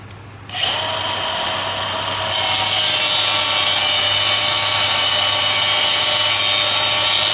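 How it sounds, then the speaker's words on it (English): A power tool starts up and cuts steadily through a metal bolt on the shaft of a Woodmizer 4500 sawmill, its loud high whine rising in intensity and holding continuously close by. "we're just gonna do it the old fashioned way and cut the bolt completely out"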